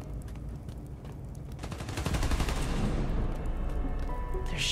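Rapid automatic gunfire in Spider-Man: Miles Morales, a dense fusillade of overlapping shots that swells louder midway and keeps rattling without pause.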